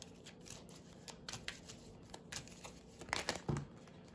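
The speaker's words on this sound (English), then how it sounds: "now I'm gonna pull three cards from this deck to close up this reading" Tarot deck being handled and shuffled for a reading, soft close papery riffling and card rustles, quiet and continuous with a few louder flicks near the end.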